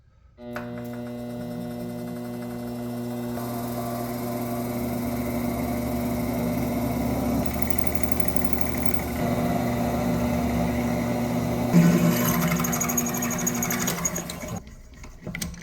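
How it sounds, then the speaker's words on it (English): A power drill with an M8 bit whirs steadily for a long stretch, drilling metal motorcycle parts, its pitch shifting slightly as the bit bites in, then stops abruptly near the end. "we're going to drill these out right in the center with an M8 drill bit"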